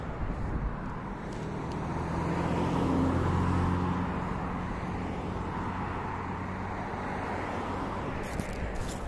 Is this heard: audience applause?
no